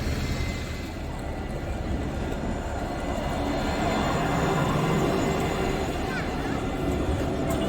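A tram in Nottingham rumbles past with a steady, broad mechanical roar that swells slightly midway, heard from nearby on a street.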